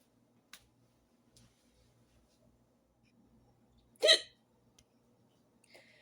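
A person hiccups in a quiet kitchen while pork cooks in a crock pot: one loud, sharp hiccup stands out near the middle, with a couple of fainter clicks and small sounds before and after.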